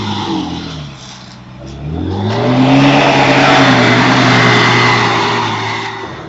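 A four-wheel drive vehicle's engine revs up through a track run-off on a trip to Wonnangatta, rising from a lower drone into a loud, sustained roar that holds steady, then eases slightly at the end, with no talk.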